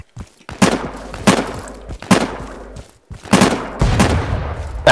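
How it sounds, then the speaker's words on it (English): Loud explosions and heavy gunfire crash in Insurgency, several sharp bursts with debris-like breaking crackle spaced a second or so apart, ending in a sustained rumbling blast. "Ah, that grenade."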